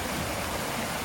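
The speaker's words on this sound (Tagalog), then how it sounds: "Lakas ng tubig dito guys." Strong rushing water near a playground during the rainy season, a loud, continuous broadband roar of flowing water, steady and close, with no voices.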